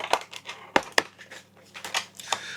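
Scotch tape is pulled and peeled from a box of One Piece cards in short, crackly bursts, a series of sharp ripping and crinkling sounds close up.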